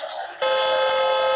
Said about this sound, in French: Puis on peut aussi klaxonner.